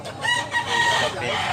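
A gagamba hini rooster crows once, loud and near, the call drawn out over a second and a half above faint background noise.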